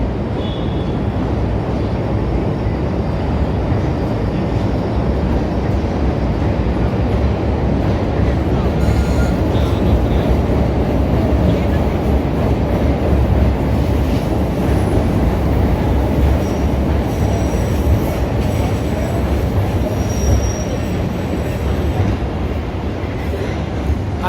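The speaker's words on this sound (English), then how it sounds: "I just love the sound of the train and the footage" A train rumbles past in foggy downtown Chicago along Lake Street, its loud, steady roar of wheels and cars continuing close by for the whole stretch with faint squeals, alone without talk.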